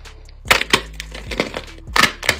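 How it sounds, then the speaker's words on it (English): Seals making sharp popping sounds, a series of loud distinct pops arriving in irregular bursts, several close together, with no talking. "These pop sounds are insane."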